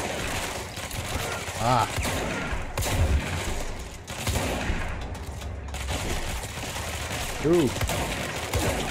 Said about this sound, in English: Shotguns are my favorite melee weapon.